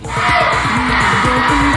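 Fans of a pop singer scream together in a loud, continuous crowd roar of high-pitched yells and shrieks that holds steady throughout.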